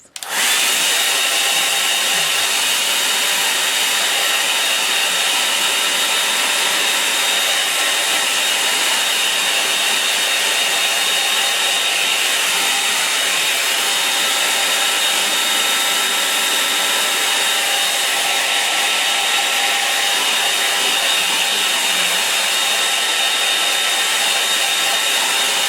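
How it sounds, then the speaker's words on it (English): A hair dryer blows steadily on a watercolour landscape painting, a loud continuous whirring hiss held at an even pitch for the whole stretch, with no talking over it. "I'll dry it off"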